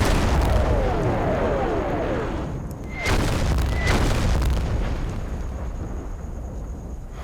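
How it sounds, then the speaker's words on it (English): Gunfire and artillery from the WWII strategy video game Combat Mission: Battle for Normandy, Operation Bluecoat, with a dense rumbling battle bed and two sharp booming reports a second apart midway. "the odd gunfire from the edge of Pram on the German side seems to be picking off"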